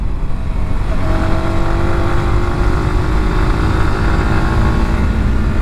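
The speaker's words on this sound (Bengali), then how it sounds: "এই সাহা, পাহাড়ে তো এরকম আর কি স্পোর্টস ক্যাটাগরির বাইক চালানোর ভাই মজাটাই আলাদা।" A Yamaha R15 sports motorcycle rides up a hill road, its engine droning loud and steady close to the microphone, with wind rushing over it throughout.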